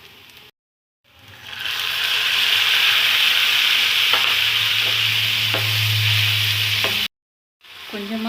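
Chopped tomatoes hit a hot oiled pan of browned onions with a loud sudden sizzle that holds steady, while a spoon scrapes and stirs with occasional soft clinks, bracketed by brief silences at each end.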